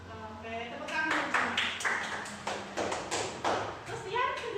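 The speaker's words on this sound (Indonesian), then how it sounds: "Oke, tepuk tangan" Classroom of students clapping hands together in a burst of roughly a dozen quick claps, close and fairly loud, with a voice talking before and after.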